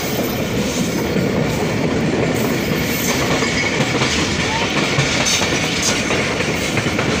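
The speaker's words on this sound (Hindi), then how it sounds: "बांदी को स्किप कर रही है 48 डाउन रहमान बाबा एक्सप्रेस" The 48 Down Rehman Baba Express passes through a Pakistani railway station on the Rohri to Karachi line without stopping, a loud, steady rumble with continuous wheel clatter and rail noise throughout and no talk over it.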